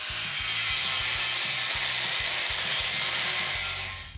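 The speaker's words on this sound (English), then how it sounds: "hack away the excess material with an angle grinder" An angle grinder cuts away excess steel from homemade Kant twist clamps, a loud continuous close-up whine with a rough, pulsing low rumble that holds for about four seconds before easing off.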